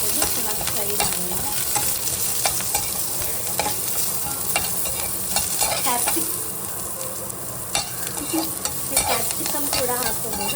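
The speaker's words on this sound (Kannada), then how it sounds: "ಗಾರ್ಲಿಕ್ ಹಾಕೊಂಡ್ಮೇಲೆ ಆನಿಯನ್ ಹಾಕ್ಕೊಂಡು ಚಿಲ್ಲಿ ಮತ್ತು ಕರಿಬೇವು ಹಾಕ್ಕೊಂಡು ಚೆನ್ನಾಗಿ ಫ್ರೈ ಮಾಡೋಣ" Garlic, onion, chilli and curry leaves frying in a pan, a loud continuous sizzle with steady stirring scrapes and clicks throughout, no voices.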